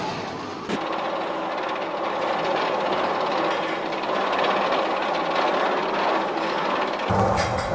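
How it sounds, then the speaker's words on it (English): The Iron Dragon, a suspended roller coaster at Cedar Point with four-person carriages hanging below the track, rumbles and clatters steadily along its rails, a continuous loud mechanical roar with a sharper change near the end. "The Iron Dragon is a suspended roller coaster."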